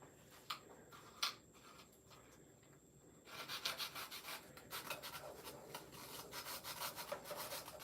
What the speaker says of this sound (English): I'm using a serrated knife.